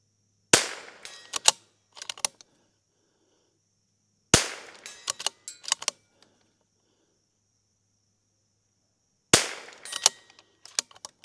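A Rim-X rifle fires rounds during a reliability test: three groups of sharp, loud reports, each a quick string of several shots with short gaps, separated by long silences, close and without talk.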